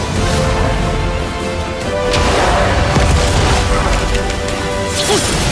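A powerful animated explosion from a Chinese fantasy series, set off by a green pill in a forest: a loud, sustained crashing blast with rumbling debris lasting several seconds.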